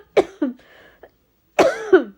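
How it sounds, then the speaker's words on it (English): Someone coughs into their hand, two close, sharp coughs followed after a brief pause by two more, with a faint hum between them. "I wasn't meant to cough in my hand."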